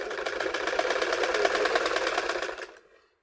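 A sewing machine stitches georgette fabric for a burqa pocket, running in one steady, rapid, close burst of even mechanical clatter for about two and a half seconds before stopping, with no voices.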